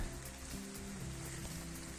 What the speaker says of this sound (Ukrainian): паде дощ з кожного дерева, капає